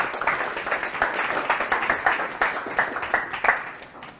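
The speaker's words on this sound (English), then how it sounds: "Give Deepa a clap" Audience clapping at a talk or seminar, a brief round of moderately loud, dense applause that fades out near the end.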